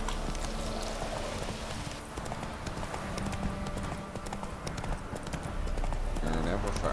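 Roach, Geralt's horse in The Witcher 3 video game, trots with steady, close clip-clop hoofbeats throughout while game characters talk over them.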